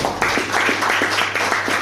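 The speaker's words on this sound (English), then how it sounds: "Big round of applause for the butterfly master." An audience at a speakers' forum claps for the butterfly round master, with brisk, fairly loud claps in a steady, even pattern that lasts under two seconds.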